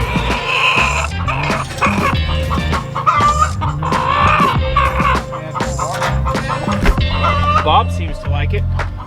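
An old rooster clucks steadily while pecking at soaked grain scattered on the ground outdoors, close and busy throaty calls with clicks and rustles, alongside other fowl and a possible dog.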